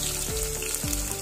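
Long-sliced onions fry in oil with spices, a dense, continuous close sizzle with faint utensil movement and no talking.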